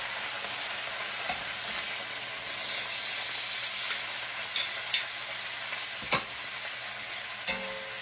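Collard greens and a big onion cooking down in a pan, a continuous soft sizzle and hiss with occasional clear knocks and scrapes of a spoon turning the greens, no voices.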